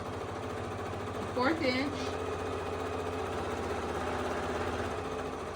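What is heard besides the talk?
sewing machine stitching a seam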